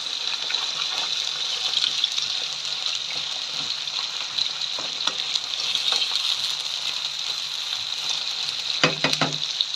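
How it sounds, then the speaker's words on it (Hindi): Keema (minced meat) frying in a pan over medium flame for keema paneer, a constant bright sizzle broken by scraping and tapping from a spoon breaking up and stirring the meat, close by. "खोलने के बाद इसको हम इतना भूनेंगे इसका कलर चेंज हो"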